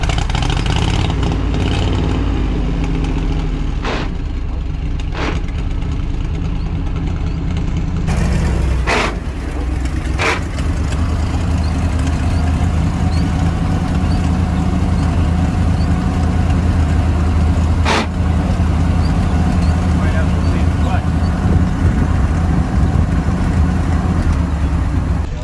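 Tucker Snow Cat engine running at a steady, rumbling idle after starting, loud and close, with a few sharp clanks and knocks over the drone and occasional voices nearby.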